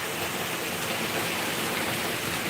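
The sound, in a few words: rain falling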